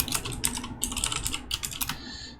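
Rapid keystrokes clatter on a computer keyboard in a quick run of close, crisp taps, with short pauses between clusters and a heavier final key press.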